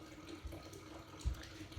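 Water trickles slowly from a Berkey water filter into a container, a faint, steady liquid flow with a few soft bumps, quiet and close, no voices.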